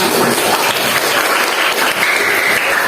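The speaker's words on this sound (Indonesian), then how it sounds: "tepuk tangan untuk kita semua" Classroom applause from students at the end of a lesson, a dense steady patter of clapping hands lasting a few seconds, fairly loud and close with no talk over it.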